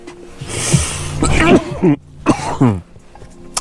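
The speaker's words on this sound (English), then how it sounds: "Still getting over that cough" A few sharp coughs and a throat clear, close and loud, bunched together with short pauses between them.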